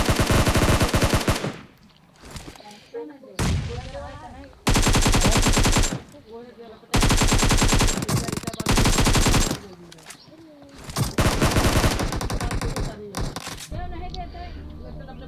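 Gunfire in the BGMI battle-royale video game, with an M24 rifle involved, comes in loud, close bursts separated by quieter gaps where someone talks.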